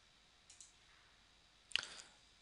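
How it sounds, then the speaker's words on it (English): A computer mouse gives two small, quiet clicks followed a moment later by a sharper, louder double click in a silent room. "So just do a right click, run the selected test."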